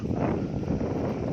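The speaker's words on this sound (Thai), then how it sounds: "บรรยากาศลมเย็นๆครับ" Cool wind blows outdoors by a fish-rearing pond, buffeting the microphone with a steady, broad rumbling whoosh that stays loud and continuous throughout.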